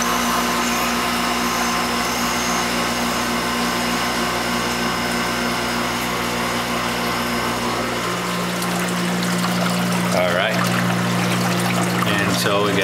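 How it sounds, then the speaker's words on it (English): Water pours steadily over a V-notch weir in a laboratory flow channel, a continuous broadband rush and trickle that stays constant throughout, with a faint steady hum of pump machinery beneath. "here we have a flow over the V-notch weir"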